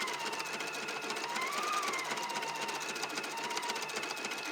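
An embroidery machine stitches an edge-to-edge quilting design, giving a steady rapid mechanical whir and chatter that holds at an even level throughout, close by with no talk over it.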